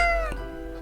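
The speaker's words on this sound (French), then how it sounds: "Le chat?" A cat in the video game Death and Taxes gives a single clear, drawn-out meow that slides downward, heard alone.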